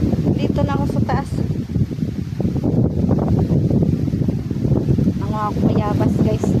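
Steady, loud wind on a mountain top roars across the microphone throughout, with a few brief voice-like bursts rising above the gusty rush.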